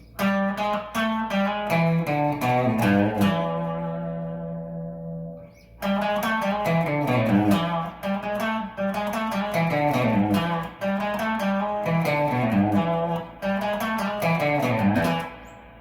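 Electric guitar solo lick from a live version of a song, played from the start as fast runs of picked notes and bends with a sustained held note and a brief pause midway, close and solo without talk.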